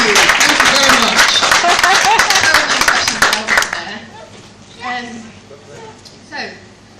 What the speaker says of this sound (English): He might get a round of applause.